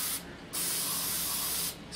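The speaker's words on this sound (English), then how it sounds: "Spray along the bottom a little bit better." A spray paint can hisses loudly in two long, steady bursts over model train parts, with a brief gap between them.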